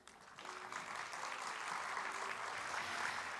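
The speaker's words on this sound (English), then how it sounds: "another round of applause for Sophia, who's doing a great job despite" Sustained audience applause at an opening ceremony of a data festival, a dense steady roar of many hands that swells in the first half second and holds loud to the end, with no voices over it.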